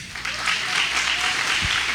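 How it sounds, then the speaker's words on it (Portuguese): A church congregation applauds loudly during a sermon, a close, dense, sustained wash of clapping that starts abruptly and holds steady for about two seconds. "Aplauda bem forte ao Senhor."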